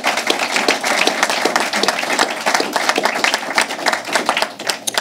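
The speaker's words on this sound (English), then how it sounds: "That's worth a round of applause." A government award announcement audience breaks into sustained applause, dense rapid hand claps filling the whole stretch at steady loudness with no talk over it.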